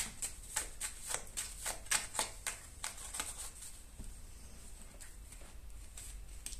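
A deck of cards is cut and handled close up in a hushed ASMR setting, a rapid series of crisp, soft flicks and clicks that slows toward the end.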